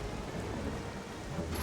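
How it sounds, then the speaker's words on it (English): Rain falls steadily in The Legend of Zelda: Twilight Princess HD, a dense, even hiss of drops with a low rumble beneath, with no voices. "Maybe they just need that little bit of water from the rain to fully grow."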